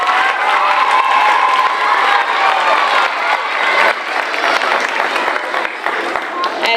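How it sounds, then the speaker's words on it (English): At a Veterans Day school assembly, a large crowd claps and cheers loudly and continuously, with children shouting and whooping throughout the sustained roar. "Can we give her another round of applause"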